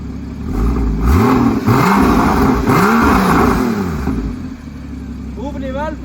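Porsche Cayman S 981 engine revving with the exhaust valves closed, rising and falling in several loud, close blips over a steady idle, with a voice speaking briefly near the end.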